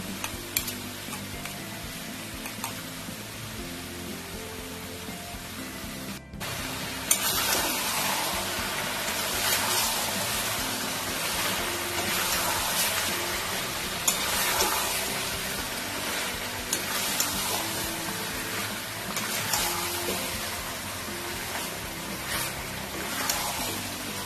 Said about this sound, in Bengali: আদা রসুন কাঁচা লঙ্কার পেস্ট দিয়ে দিচ্ছি